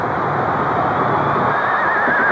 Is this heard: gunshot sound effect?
no